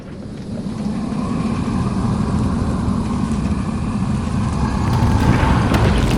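A car engine rumbles steadily in Minecraft and grows slightly louder toward the end as the vehicle pulls away, close and continuous.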